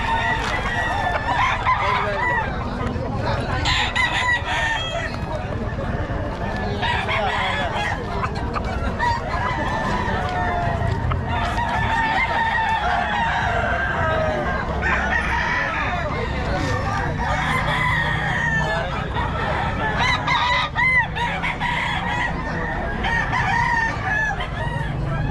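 Crowds of roosters and hens at a poultry sale in Bocaue, with overlapping crowing and clucking throughout, loud and close, mixed with steady background chatter from people.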